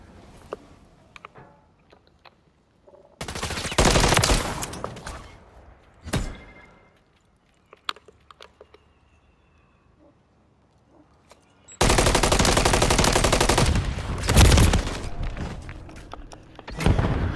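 Several loud bursts of automatic gunfire crack out in Call of Duty Modern Warfare 3 ranked multiplayer, broken by scattered single shots and thuds during quieter gaps, and the long final burst is sustained.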